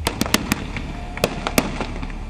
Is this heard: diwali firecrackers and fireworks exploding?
yes